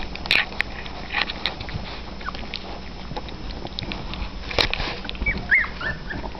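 Puppies whimper and squeak in faint, high yelps, close by, over soft pattering and shuffling as they move about.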